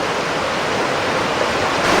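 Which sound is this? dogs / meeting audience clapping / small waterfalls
small waterfalls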